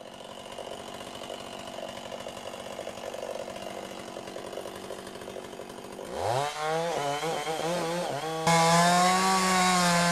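A chainsaw idles and drones steadily, then revs up sharply into a loud, rising whine as it bites into wood.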